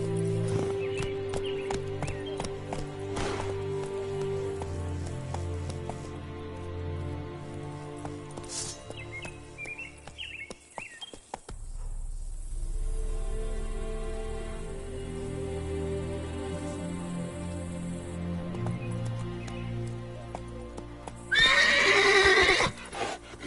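Roach the horse gallops with steady clip-clop hoofbeats and lets out a loud whinny near the end in The Witcher 3 on PS5, with birds chirping faintly in the game's ambience.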